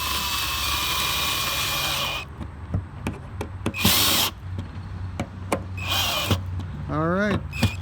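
A power drill drives a screw into the back of an Igloo Party Bar 125-quart cooler: a long steady whir, then several short loud bursts with clicks between, and a person speaking briefly.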